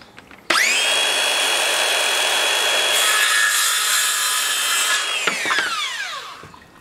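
A power drill bores into a bamboo piece for a primate feeder, a loud, steady whine that holds for about five seconds and then winds down, close and with no talk.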